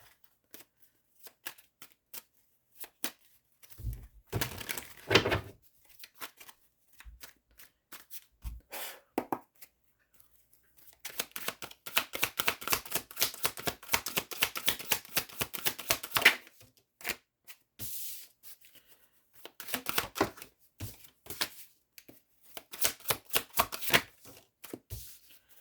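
Tarot cards are shuffled close by in several bursts of rapid riffling and flicking, separated by quieter stretches with occasional light handling taps.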